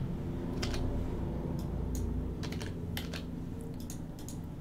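Rapid bursts of keystrokes on a computer keyboard while someone types during an ArcoLinux operating system installation, clattering in clustered runs over a steady low hum of room and machine noise.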